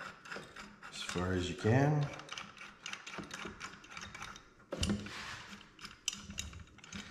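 A G-Boost clutch tool is threaded by hand into the four holes of a Can-Am Maverick X3 clutch, making quick ratcheting, clicking metal turns close by, with a voice talking briefly over the start.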